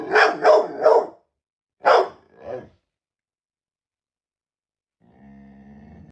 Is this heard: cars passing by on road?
no